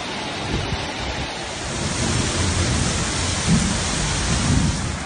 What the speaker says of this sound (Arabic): أمطار فجر اليوم